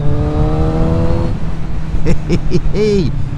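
A Kawasaki Z900RS motorcycle fitted with a Karakter exhaust rumbles steadily close by, a low throaty idle that blips into a few quick revs near the end.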